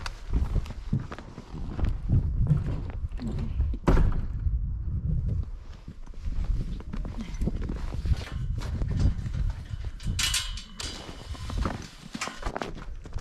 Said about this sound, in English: Older horses will come in